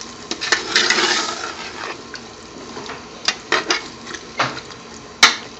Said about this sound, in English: now we're going to tip the vinegar in. White vinegar. And then give it a good stir.